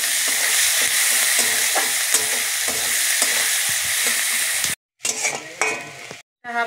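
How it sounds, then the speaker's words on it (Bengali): Chopped onion dropped into oil left from frying fish, with cumin tempered first, sizzling loudly and steadily under rhythmic spatula stirs, then cutting out briefly before resuming in short bursts. "জিরেটা ফোড়ন হয়ে গেছে, পেঁয়াজ কুচি দিয়ে দেবো।"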